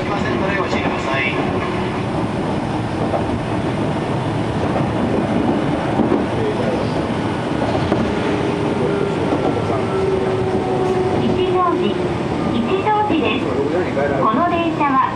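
An Eizan Railway 800 series electric train rumbles steadily along the tracks between Kurama and Demachiyanagi with a continuous low roar and faint rhythmic clatter, while a Japanese one-man-car voice announcement plays over it.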